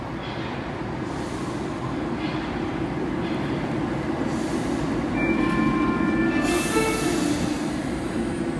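A Paris metro line 12 train rumbles loudly through Mairie d'Aubervilliers station, a steady, heavy roar with thin high wheel squeals rising toward the end, heard up close without voices.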